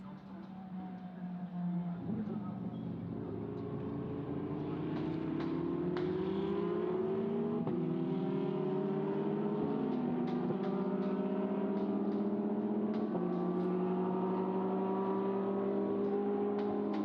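Lamborghini Huracán GT3 and other GT3 race cars lapping Magny-Cours circuit, engines droning steadily with rising and falling pitch as they accelerate and shift, a continuous loud mid-distance roar throughout.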